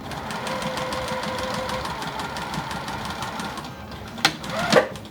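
A sewing machine runs a steady rapid top stitch along the folded edge of a fabric bag lining, a continuous whirring hum for about four seconds that stops, followed by a couple of short clicks and a rustle of fabric.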